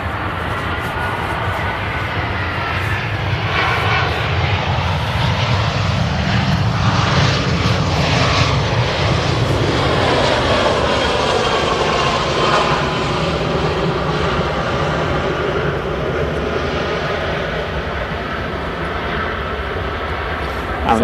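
An aircraft arrives and lands at Manchester Airport, its loud engine roar swelling and slowly fading over about twenty seconds, with people talking over it.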